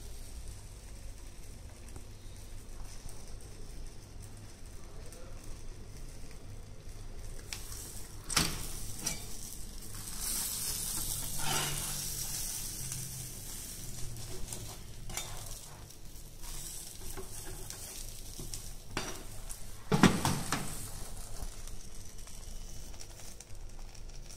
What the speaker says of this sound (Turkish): Tostlarımız hafif kızardı. Biraz daha kızartıyoruz.